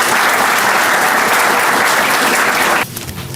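Sustained, dense applause from a conference audience welcoming the organisation's president to the podium, loud and even, ending abruptly near the close.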